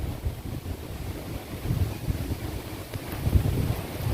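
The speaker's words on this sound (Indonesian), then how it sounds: "Oh, angin ini." Wind buffets an outdoor microphone in steady low rumbling gusts for the whole stretch, with a stronger burst near the end and no voices.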